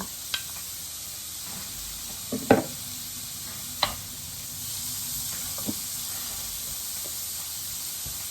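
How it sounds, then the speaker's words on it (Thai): Butter and bacon fry in a pan with a steady, continuous sizzle and hiss, broken by a few sharp clicks and clinks of a utensil against the pan. "ใส่เนยแล้วก็เบคอนนะคะ ลงเลยนะคะ ใส่เยอะเลยค่ะ"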